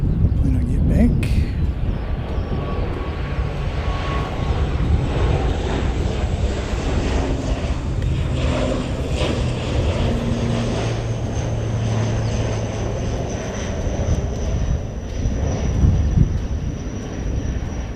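ATR turboprop airliner passing at an airport, a steady broad engine roar with a propeller drone, fairly loud and sustained throughout, with spoken voices partly over it.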